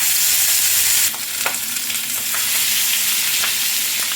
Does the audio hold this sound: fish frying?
yes